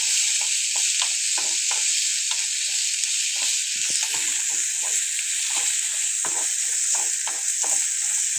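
Chopped tomatoes fry in a pan for ragi upma, giving a loud, steady close-up sizzle with soft scraping and clicking as a spoon stirs them at irregular intervals.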